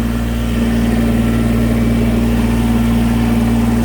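Kubota BX series compact tractor engine running steadily in low gear while the machine moves, a loud, continuous low hum with a strong even drone and no pauses.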